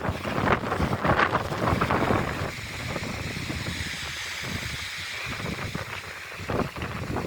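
Strong wind gusts rumble against the microphone at a plant nursery at night, louder at first, then easing into a quieter steady blow before picking up again briefly.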